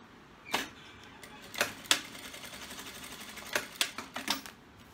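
Sewing machine stitching fabric, the lining beside the synthetic leather of a zippered handbag pocket, heard as brief, sparse clicking and tapping bursts over a soft background hum, moderately close and fairly quiet.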